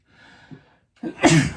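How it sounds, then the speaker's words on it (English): A single sneeze indoors, with a faint breathy intake first and then a loud close burst that ends the clip. "But I think I'm going to sneeze."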